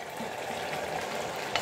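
Onion fries in a pan with a steady, dense sizzle and hiss, close and even throughout, and a faint clink near the end.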